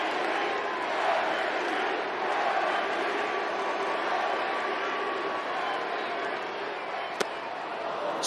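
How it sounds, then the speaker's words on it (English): A baseball crowd chanting for Fernando Tatis Jr. during a Diamondbacks vs Padres game, a sustained broad roar of many voices carrying through the stadium with a single sharp crack near the end. "And now comes the chant."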